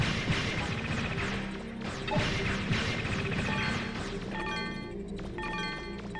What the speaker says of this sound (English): Ow, ow, don't whack me